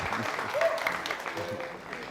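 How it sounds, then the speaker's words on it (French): Studio audience applause for a guest on a Burkina Faso TV entertainment show, a short burst of steady clapping that fades slightly, with a voice and a brief cheer rising over it. "représentés par le pasteur Sanou, pour qui je demande beaucoup d'applaudissements."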